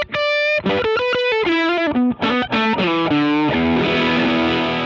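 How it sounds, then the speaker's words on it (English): An electric guitar through a Boss DS-1W distortion pedal set as a boost, distortion and tone all the way down, level up, plays a short run of notes and chords with a thick, overdriven tone, ending on a ringing sustained chord. "distortion all the way down, tone all the way down, level all the way up, and it's a great moody boost sound."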